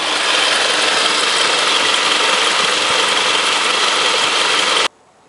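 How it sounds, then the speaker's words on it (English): A car engine idles with the AC compressor clutch engaged and turning, producing a loud, steady, close mechanical drone with a whirring hiss. The sound cuts off abruptly near the end. "the clutch is now turning"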